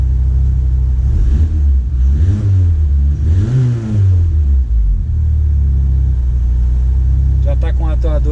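A VW Saveiro G3 with a 2.0 turbo engine and HX40 turbo runs at idle, a steady low rumble with brief rises in engine note, heard up close under continuous talking.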